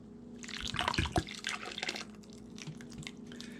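V8 juice glugs and splashes as it is poured from a jug into a pot of salsa, a short liquid stream with a couple of heavier drops, close and fairly loud.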